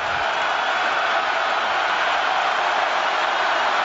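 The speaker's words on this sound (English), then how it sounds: "crowd making a little noise" A college football stadium crowd, at a Florida International versus Alabama game, gives off a steady, distant wash of murmuring noise with no distinct cheers or voices standing out.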